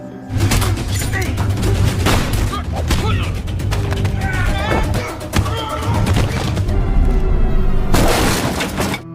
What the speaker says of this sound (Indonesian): ada sekelompok gangster lain yang datang dan menembaki Max secara membabi buta